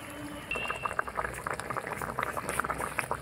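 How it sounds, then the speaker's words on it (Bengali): Fried fish pieces simmer in a bubbling, boiling fish curry, giving a steady close run of popping bubbles and soft liquid gurgles throughout, with no voices. "এবার ভাজা মাছটা দিয়ে দেব। বেশি ফোটানোর প্রয়োজন নেই। মাছটা দেওয়ার পরে 2 মিনিট ফুটিয়েই নামিয়ে নেব।"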